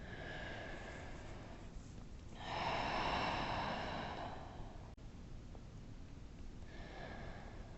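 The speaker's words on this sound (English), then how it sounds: "a few more cleansing breaths on your own" During a yoga flow, a long, slow, airy exhale of a deep cleansing breath rushes close to the mic, followed later by another breath starting, with soft background hiss between.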